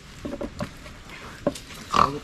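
A pig grunts and oinks in a few short bursts, close by and moderately loud, amid household preparations for a family Christmas party, with no one speaking.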